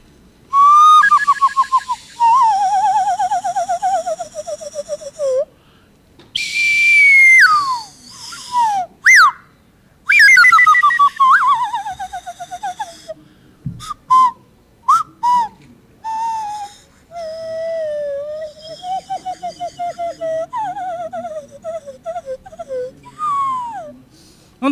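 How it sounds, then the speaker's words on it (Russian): Bashkir nasal kubyz (khairan), a whistle-like folk instrument, playing a high, sliding, breathy melody in separate phrases broken by short pauses, close and fairly loud with no voices. "Он называется хайран. Хайран. Хайран. Хайран. Это носовой кубыс."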